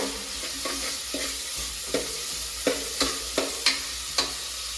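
Spices frying in a pan for a Kerala chicken curry, stirred with a spoon that scrapes the pan in sharp, spaced clacks over a steady sizzle, fairly close and moderately loud.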